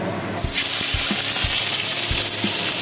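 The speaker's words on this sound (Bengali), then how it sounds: "তেলটা গরম হয়ে গিয়েছে এবার পেঁয়াজ বাটাটা দিয়ে দেবো" Onion paste drops into hot oil and fries with a loud, continuous sizzle and crackle, broken by a few soft knocks of a spoon stirring the pan.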